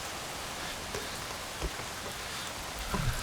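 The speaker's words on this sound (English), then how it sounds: "So as you can probably hear, it's a bit wet, raining" Steady light rain patters across a graveyard, a soft even hiss with a few heavier drops landing nearby, heard alone without any talking.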